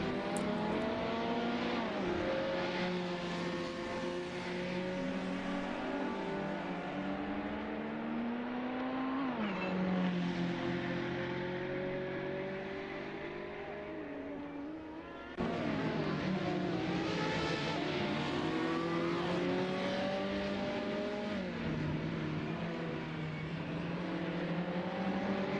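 Ferrari twin-turbo V8 race cars roar around the Imola circuit, a loud continuous engine howl that climbs through the gears, drops on downshifts and repeatedly surges again as the pack races on.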